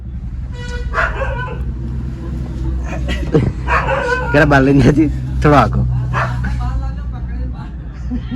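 A dog barks and yelps at a tiger several times in short bursts while people talk over it.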